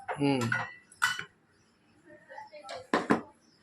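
A metal spoon clinks against a dish in a few quick, close knocks while chili powder is added to a fish curry, with a person speaking between the clinks.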